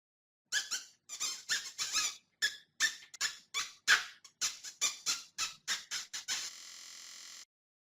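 A hamster in a mobile memory-matching zoo game squeaks over and over in quick, high-pitched chirps, about a dozen and a half in a row, ending on a brief sustained tone.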